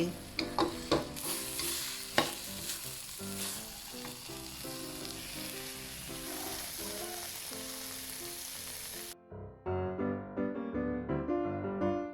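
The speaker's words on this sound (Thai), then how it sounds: "ต้องผัดให้แห้งนิดนึงถึงจะอร่อย" Southern Thai lemongrass chili paste being stir-fried in a pan gives a loud, steady sizzle with scraping strokes for about nine seconds, then cuts abruptly to music.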